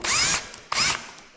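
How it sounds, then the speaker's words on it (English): Two short bursts from a power drill working into solid oak flooring laid over cork underlayment, high whirring pulses separated by a brief pause, close and clear. "I also ran the drill this way"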